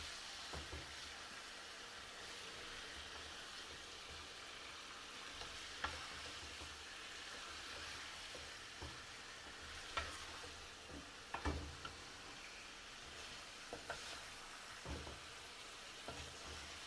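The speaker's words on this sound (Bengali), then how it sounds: "ঢেকে দিব এবং অল্প আছে তেলের উপর ভাজা ভাজা করব" Desi chicken bhuna frying in a little oil, with steady close sizzling throughout and occasional sharp scrapes and knocks as a spoon stirs the pan, no voices.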